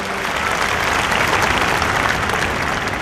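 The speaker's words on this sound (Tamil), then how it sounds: "அரங்கம் நிறைந்த கைத்தட்டல்." A concert audience at a live show in Malaysia breaks into loud, sustained applause, a dense wash of clapping from a full hall lasting a few seconds without pause.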